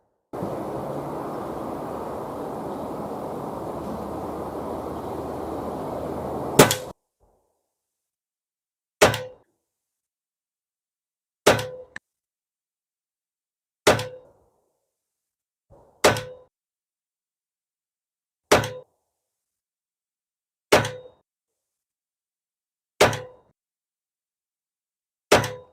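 Reximex Regime or Retay T20 air rifle pellets striking a target, sharp isolated thunks spaced a couple of seconds apart in a quiet setting, after an opening stretch of steady background noise.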